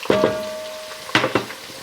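Garlic hits hot oil in a pan with a burst of sizzling and a few stirring knocks against the pan, close and steady between clatters.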